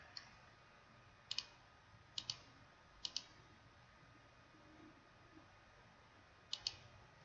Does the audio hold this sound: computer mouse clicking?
yes